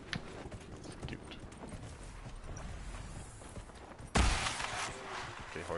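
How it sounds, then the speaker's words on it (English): Horse hooves clip-clopping in the video game Dragon Age, a steady walking rhythm of soft thuds under game ambience and faint talk, joined near the end by a sudden louder burst of hissing noise. "Okay, horsey, you stay back here."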